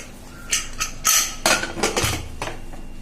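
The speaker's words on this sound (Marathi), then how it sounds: "आता चार ते पाच शिट्ट्या करून घ्यायच्या झाकण लावून घेते आता मी" A pressure cooker lid is closed on a pot of mutton biryani in a home kitchen, with a series of close metallic clanks, scrapes and clicks in quick succession, each short and sharp, with no voices.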